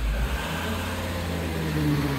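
A car engine runs steadily on a workshop ramp, a low continuous hum with a slight rev, close by and alone with no talking.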